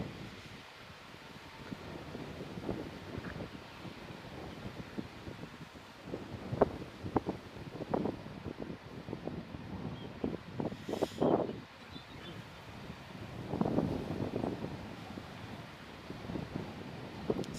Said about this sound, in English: So that wind is picking up now